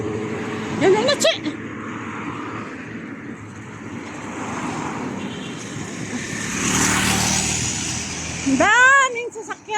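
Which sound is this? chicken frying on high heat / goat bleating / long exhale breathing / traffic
traffic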